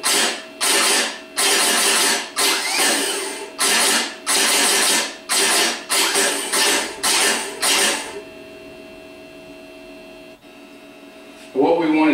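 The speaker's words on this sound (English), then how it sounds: "listen to the starter and make sure that it achieves a higher RPM" A rebuilt 5MT starter motor spins up in about a dozen short, loud whirring bursts with brief gaps between them, then falls silent except for a faint hum.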